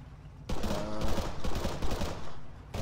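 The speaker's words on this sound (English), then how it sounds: "I think they're shooting at inanimate people, mannequins, if you will." Video game gunfire from a shootout on Stratis, a sudden dense volley of overlapping shots that stays loud for about two seconds and then cuts off.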